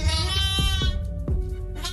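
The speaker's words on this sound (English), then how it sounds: "Huge sheep." A sheep bleats loudly and close, a long wavering cry followed by a few shorter bleats.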